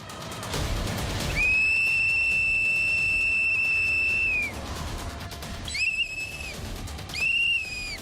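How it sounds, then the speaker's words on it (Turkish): A night watchman's shrill whistle blows one long sustained blast, then two short bursts follow after a pause, loud over a murmuring street background in Mersin, Turkey. "mahalle ve sokaklarda düdük çalarak birbirleriyle iletişim kuruyorlar"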